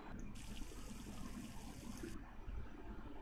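Liquid pours from a can in The Long Drive video game, a steady faint trickle with light splashing running for a few seconds over a low background rumble.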